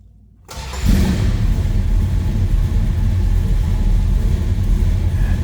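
A 1969 Dodge Charger SE engine cranks and catches after a brief silence, then settles into a steady, deep rumbling idle close by.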